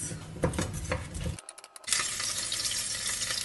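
Spoon scraping and clinking in a pot as onion and garlic sizzle underneath, a short pause, then steady frying hiss; close and fairly quiet.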